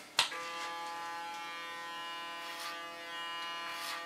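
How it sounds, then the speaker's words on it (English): Electric hair clipper cutting hair, switched on with a click and then running as a steady close buzzing hum, with faint swells as the blades move through hair. "This time we do it with the clipper"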